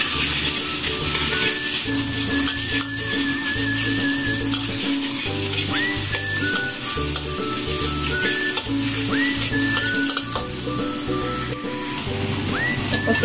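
Minced pork sizzles and crackles steadily in a pan, sautéed with shallot and garlic for Cantonese rice noodles, with an unbroken frying hiss under rhythmic background music.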